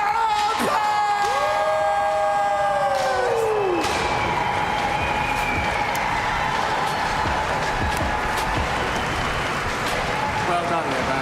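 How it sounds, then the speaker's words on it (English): Crowd at a skateboarding competition final cheering, whooping and clapping for a skater, loud and sustained, with a voice and tonal sounds rising over the noise early on. "Please make some noise for the one and only"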